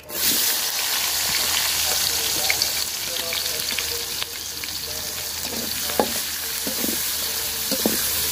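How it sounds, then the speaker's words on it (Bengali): Onions frying in fish-frying oil with a little extra oil added, loud continuous sizzling with occasional spatula scrapes as they are stirred, close by and without speech. "তো পেঁয়াজটা আমি লাল লাল করে ভাজা নিচ্ছি সুন্দর করে"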